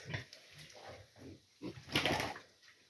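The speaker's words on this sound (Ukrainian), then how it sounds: "Порося. Порося." Piglets being weaned grunt in a pen, a run of short close grunts and snorts in an uneven rhythm, ending in a louder, busier burst of squealing grunts.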